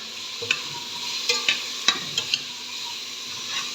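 Vegetables get stirred in a hot pan, a steady close sizzle punctuated by several sharp scraping and clacking strokes of the utensil at irregular intervals, with no talking.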